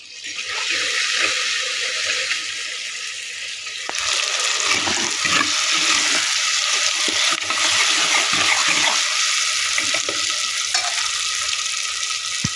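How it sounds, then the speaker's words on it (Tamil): A ground masala and fish mixture is poured into a hot pan of sautéed onion and green chilli for a fish curry. A loud, steady sizzle jumps in intensity partway through, with bubbling and stirring noise and no speech. "இப்போ நம்ம கரைச்சி வச்சுருக்க மசாலாவில் மீனோட கலந்து வச்சுருக்கோம் இல்லையா மசாலா அதில் ஊற்றிடுவோம்"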